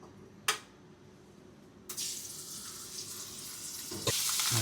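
Sausage fries in coconut oil, a quiet hiss that swells into loud, crackling spatter partway through, with a couple of sharp knocks from the pan.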